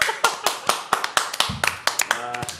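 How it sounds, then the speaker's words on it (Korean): Several people clap in quick irregular bursts, sharp hand slaps overlapping briefly alongside a low tonal sound partway through. "박수."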